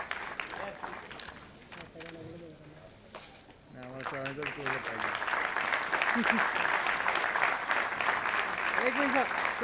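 An indoor audience at a national music competition claps loudly as a souvenir booklet is released. Faint sung or spoken tones come first, then the applause swells into sustained, dense clapping.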